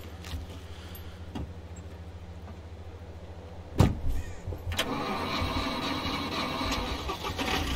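A truck engine in the survival game SCUM cranks over with a sharp transient and catches, then settles into a steady, fairly loud running rumble after a quieter idle-like stretch.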